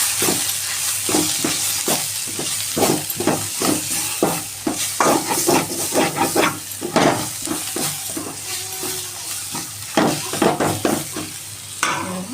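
Moringa leaf fry with sesame powder being stirred in a pan, busy repeated scraping and clanking strokes over a low, steady sizzle, loud and close throughout.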